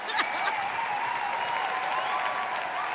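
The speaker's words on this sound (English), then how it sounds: "Give him a round of applause" A round of applause from the audience at the AMVCA 2018 award show, sustained and moderately distant, with a sustained tone and some crowd noise running through it.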